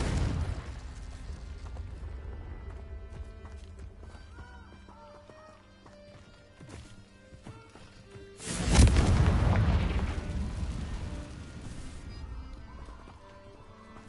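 Confringo explosion spell in Hogwarts Legacy, a deep booming blast that rises suddenly and rumbles away over several seconds among quieter game sounds, with a voice speaking in the clip.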